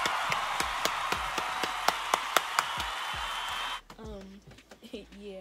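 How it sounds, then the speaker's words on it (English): A crowd claps in a sharp, scattered burst for several seconds, then the applause cuts off abruptly and voices continue talking. "Let's clap for her."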